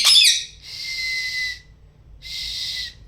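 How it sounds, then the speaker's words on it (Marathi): A parrot whistles twice in long, bright, steady tones with a pause between, after a short sharp chirp at the start; close and fairly loud. "बिट्टुडी तू शिट्टी वाजवून दाखव"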